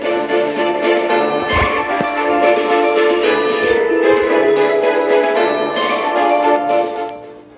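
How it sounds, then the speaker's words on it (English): Halloween theme music from the video game Adopt Me plays loud and continuous, a dense layered tune with sustained tones and bell-like accents running the whole stretch before fading at the end, no voices. "The sound is this music which they have put for Adopt Me is really great."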